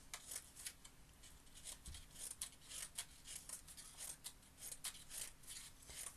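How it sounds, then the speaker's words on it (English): Scissors cut strips of paper with quiet, repeated snipping and rustling close by, a rapid irregular rhythm under a faint background hum. "So again, I'm going to cut some strips."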